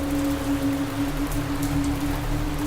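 Steady rain falls in a dense, even patter throughout, close and continuous, with a faint low hum underneath.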